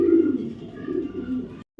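Racing pigeons coo close by in a soft, throaty burble that runs for under two seconds before cutting off abruptly.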